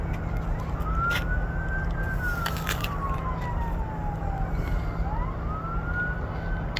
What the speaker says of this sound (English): we hear sirens now